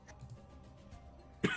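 A single sharp cough right at the end, close and sudden after a stretch of quiet room noise.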